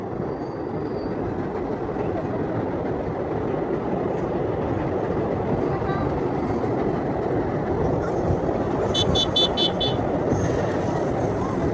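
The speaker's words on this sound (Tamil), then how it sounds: "பாருங்கள் நண்பர்களே, ட்ரெயின் போயிட்டு அந்த பாலத்துக்கு உள்ளே போகுது பாருங்கள்." Train rolling across the new Pamban bridge beside the old bridge in Tamil Nadu, a steady rumbling roar of wheels and wagons heard from nearby, with faint clicking and a brief high toot near the end.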